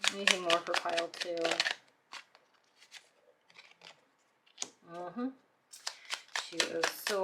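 Crisp card shuffling riffles in short bursts between stretches of someone talking, the cards close and fairly soft.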